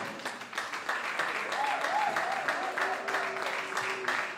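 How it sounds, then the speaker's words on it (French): Sustained audience applause fills a French-speaking awards evening as a guest named Da Silva walks out, a dense steady wash of many hands clapping with crowd noise and faint voices mixed beneath. "Et Da Silva va arriver également sous nos applaudissements nourris"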